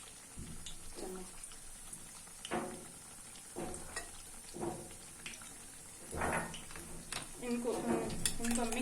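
Spoon stirring yogurt into fruit chaat in a bowl, soft wet scraping and clinking strokes in an irregular rhythm, close and fairly quiet, with someone talking between the strokes.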